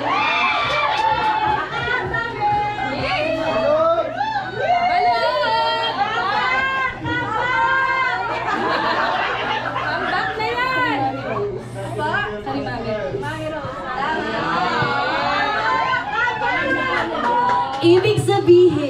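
A crowd shouts and cheers loudly and continuously, overlapping voices and excited cries merging into a dense, rising wall of noise.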